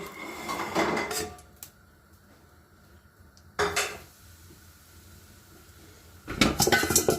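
Metallic clatter of lamb shank meat dropped into a pot, three separate bursts of clanking with quiet kitchen background between them.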